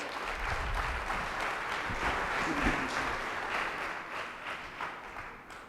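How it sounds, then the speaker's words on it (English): An audience at a talk applauds speaker Fred Cook as he takes the stage, a sustained, even roar of clapping from a large crowd that slowly fades out. "Ladies and gentlemen, give him a big round of applause."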